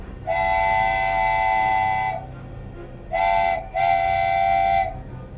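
Train horn sounding over a low rumbling rail background: one long blast, then two shorter blasts after a brief pause, moderately loud and alone without voices.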